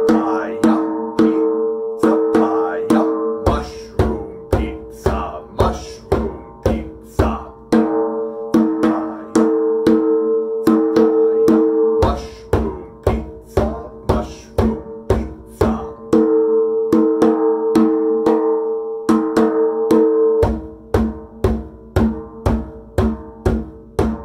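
Djembe drumming layers a pizza rhythm over two bass rhythms: quick, sharp hand slaps alternate with deep booming bass strokes in a repeating loop for over twenty seconds, played close and loud.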